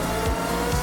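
Race car in Gran Turismo 3 driving fast, a steady engine drone close up with brief tire squeal and no talk over it.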